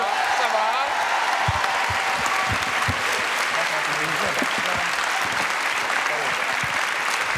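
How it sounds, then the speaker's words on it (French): Studio audience on a French TV variety show applauding Pierre Bellemare, a dense, steady wash of clapping that stays loud for the whole stretch, with a few voices faintly mixed in. "Applaudissements pour Pierre Bellemare, mesdames, messieurs."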